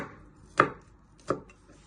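Two sharp knife chops on a cutting board, about 0.7 seconds apart, as a peeled vegetable is sliced into little pieces, close and crisp with quiet between.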